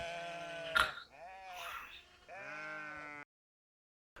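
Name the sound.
sheep bleating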